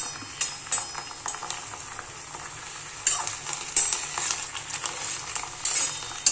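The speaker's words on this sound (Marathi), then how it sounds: "तेलामध्ये चांगली भाजून घेतली ना ती अतिशय चविष्ट होते" Chickpea greens fry in hot oil with a steady sizzle, and a few louder scraping stirs break through the crackle, close and clear.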